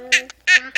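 A person's voice imitates a chicken with three loud, short, nasal squawks in quick succession, close to the listener.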